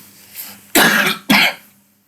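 Two sharp, loud coughs in quick succession, close to the microphone, following a faint throat sound.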